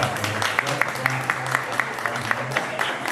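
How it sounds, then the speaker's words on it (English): Audience clapping at a mental health awareness panel, a steady patter of hands spread evenly through the whole short stretch, moderately loud and fairly close, with no talk over it. "Yes, y'all can clap."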